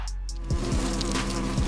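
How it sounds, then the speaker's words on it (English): A close, steady Asian giant hornet buzz drones throughout, with a low hum and a few soft thumps. "An Asian giant hornet."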